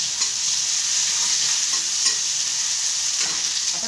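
Onions sizzle loudly in a hot pan after tomatoes, a dense unbroken frying hiss with faint stirring scrapes underneath, very close and steady throughout.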